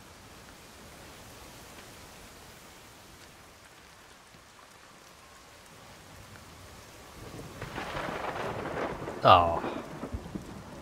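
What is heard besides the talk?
thunderstorm in a video game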